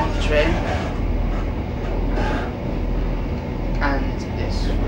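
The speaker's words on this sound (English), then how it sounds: "So I'm on the train" Riding aboard a train on a day out to Haworth, a steady close rumble of the carriage with rattles and clatter underneath, while a person talks over it.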